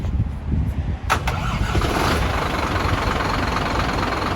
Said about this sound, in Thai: ห้าสูบมันก็จะติดแบบ อ่า ไม่ไม่ไม่ไม่เรียบเหมือนกับหกสูบนะ มันก็จะแบบสั่นๆนิดนึง